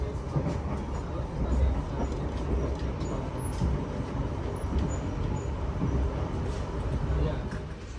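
The Argo Sindoro executive train runs on the rails with a constant, dense rumble and rattle heard from inside the carriage. Faint speech sits under the noise.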